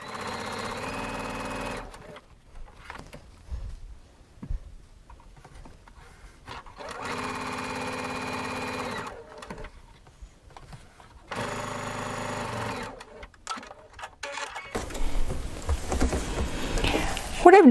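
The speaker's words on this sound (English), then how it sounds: "That moves it over just a tiny little bit when I'm sewing my cording in." A sewing machine stitches cording into quilt binding in three bursts of rapid, steady mechanical whirring, broken by quiet pauses with faint handling noise and a softly speaking voice.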